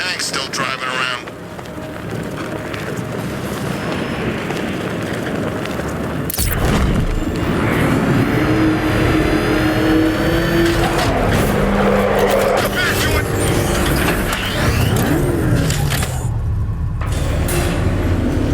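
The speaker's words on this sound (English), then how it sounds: "Plenty of tanks still driving around." Tanks rumble around in Batman: Arkham Knight with a heavy, continuous engine drone and deep booming low end, joined partway through by a louder surge of mechanical roar and whining, while a voice talks over the din.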